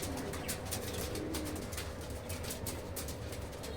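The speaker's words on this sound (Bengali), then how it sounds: "এই যে আমার কবুতরগুলো নামতেছে দেখেন, বিভিন্ন জায়গা থেকে আসতেছে।" A flock of pigeons coos steadily and close by, a soft continuous murmur of overlapping calls with faint fluttering and no talking.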